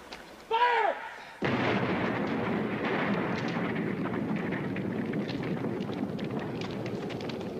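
A short shout, then a sudden deep blast of a film-set special-effects explosion that rolls into sustained rumbling and crackling debris, loud and close.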